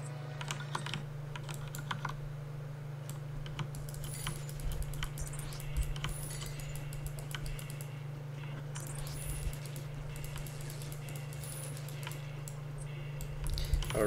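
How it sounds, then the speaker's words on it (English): Rapid tapping on a tablet touchscreen keyboard runs steadily throughout, light clicks over a constant low electrical hum, close and moderately quiet. "you're typing on a tablet"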